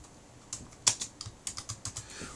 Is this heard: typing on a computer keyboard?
yes